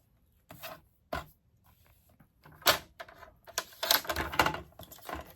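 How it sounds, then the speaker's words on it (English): Cardstock for a handmade fold card is trimmed down with a run of sharp, close clicks and scraping snips, quiet pauses between them and a busier cluster toward the end; no talking. "I'm going to cut it down just a smidge"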